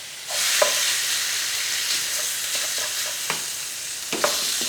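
Pork frying in oil with garlic and ginger is stirred in a pan, a steady close sizzle with scraping stirs at irregular intervals, heard alone.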